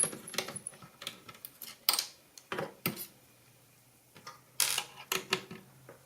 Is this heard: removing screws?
yes